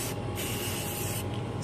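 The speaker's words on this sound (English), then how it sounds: "spraying the chairs" Aerosol spray paint hisses steadily and close up as thrift-store vanity stool chairs get a fresh coat outdoors in the sun, one unbroken loud spray through the whole clip.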